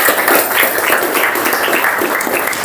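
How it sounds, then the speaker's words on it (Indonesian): A classroom of students claps for two classmates, a dense, steady burst of close applause lasting a couple of seconds. "beri aplaus buat Wahid dan Cindy"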